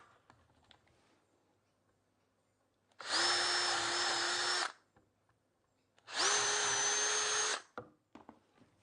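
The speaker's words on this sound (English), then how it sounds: "pop in a couple of drill holes" A power drill bores two holes into wood, each a steady loud whine lasting about a second and a half, separated by a short pause with quiet handling sounds between.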